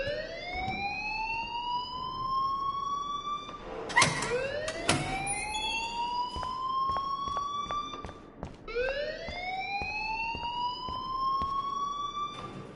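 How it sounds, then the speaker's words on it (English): A rising-and-falling siren-like alarm wails in a video game, sweeping up in long repeated cycles with sharp percussive hits in between, loud and alone with no talk. "please turn off that alarm since that's your job"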